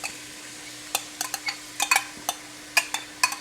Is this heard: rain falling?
no